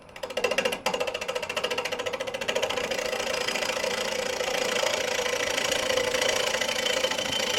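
A wood lathe spins a bowl blank at about 500 RPM, a rapid steady mechanical thrum with a fine rhythmic knocking that settles into an even loud drone after a brief start-up, with no talking.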